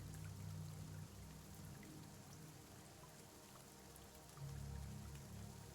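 Water poured onto a tree in the Cloud Gardens video game, a soft, steady trickling pour that runs throughout at low level, swelling slightly near the start and again toward the end.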